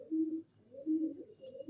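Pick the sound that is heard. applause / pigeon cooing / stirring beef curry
pigeon cooing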